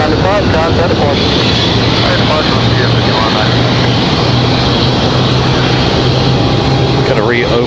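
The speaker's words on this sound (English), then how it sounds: "Sounds like we got Delta 2600 up next for arrival" A Delta airliner arriving at Raleigh-Durham airport makes a loud, steady wash of engine roar and rushing noise, with voices talking over it throughout.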